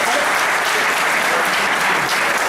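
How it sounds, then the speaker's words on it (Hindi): Audience applause at a college old students' association gathering, a full, even burst of many hands clapping that fills the short stretch without letting up. "इनके लिए जरूर ताली बजा देंगे"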